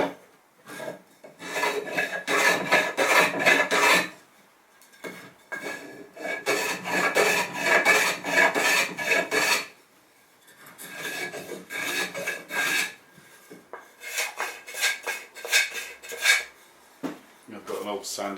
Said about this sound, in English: This one I've just used a block plane to take the sharp edges off.